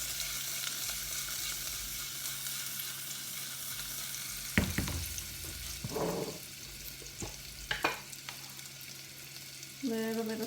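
Purple onions hitting hot fat in a pot for charro beans, a low steady sizzle with a few sharp clatters and stirring bursts as they land, close and moderately quiet.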